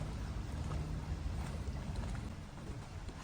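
A fairly small ferry boat approaches, its steady low engine rumble and wash heard close by, mixed with broadband wind noise across the whole stretch.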